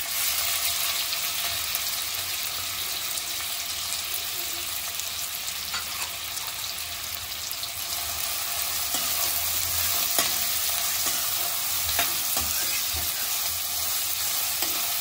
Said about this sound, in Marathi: कांदा चांगला मऊ शिजवून घ्यायचा आहे।